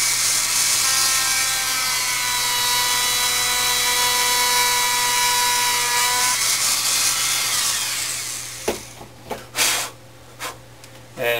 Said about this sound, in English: Go ahead and drill for the other half.